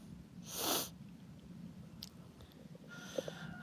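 A single short, breathy sneeze at a homestead, fairly faint and isolated against quiet outdoor background, followed by a few small clicks and sniffs.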